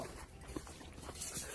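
Dogs let out in a video game, a faint dog whimper and short yips over a low, steady background hum, quiet and brief.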